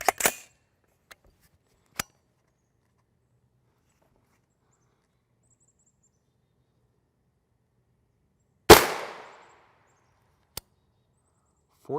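An L7A1 round is fired at a UHMWPE Level IIIA helmet during ballistic testing, giving one sharp, loud gunshot crack with a short ringing decay, set among a few faint clicks and knocks in otherwise near silence.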